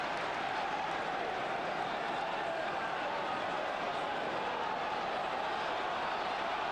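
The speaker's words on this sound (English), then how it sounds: "Crowd urging Parker to get on with it" A large football stadium crowd at a Chelsea versus Arsenal match makes a broad, steady roar and murmur that continues throughout, with a faint voice underneath.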